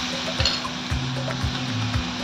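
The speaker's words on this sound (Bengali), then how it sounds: "পেঁয়াজ রসুনটা ভাজা হয়ে গেছে" Chopped onion and garlic fry in a pan with a steady bright sizzle, while a spoon scrapes and taps the pan in a regular rhythm about twice a second.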